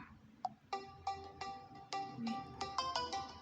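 An incoming call ringtone on a phone plays a repeating melodic chime of bright tonal notes, struck in a steady rhythm over about three seconds, moderately loud and close, with no speech over it.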